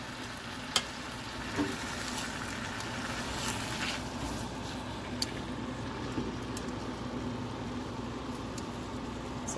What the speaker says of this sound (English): Sizzling meat.